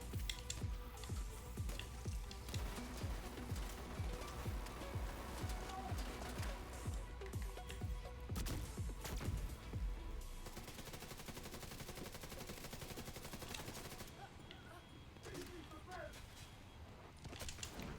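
Grenade launchers and gunfire in The Division 2, a dense run of sharp, rapid blasts for about ten seconds, then a steadier rumbling wash of combat noise.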